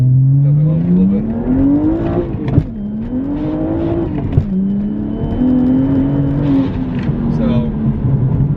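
A BMW M235i tuned to 682 wheel horsepower accelerates hard with some tire spin, its engine note climbing loudly in pitch, dropping briefly at shifts, then climbing again in a sustained, close roar.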